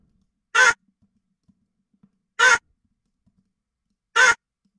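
Three short, harsh vocal chop hits, pitch-shifted up an octave, spaced evenly about two seconds apart, each a bright raspy burst like a crow's caw, over near silence.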